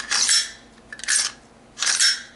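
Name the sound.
loose wobbling rattle of T1C MK18 upper parts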